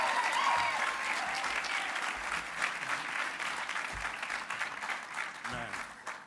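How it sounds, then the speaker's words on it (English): A graduation audience breaks into warm applause as Chauncey Charles is welcomed to the stage, with dense, steady clapping from a large crowd that holds strong throughout and thins slightly toward the end. "give a warm round of applause for Mr."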